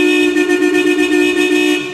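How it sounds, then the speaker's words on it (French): A Toyota Cressida's car horn blares in one sustained steady tone for about two seconds, loud and close, with no voices over it. "Le bon vieux klaxon"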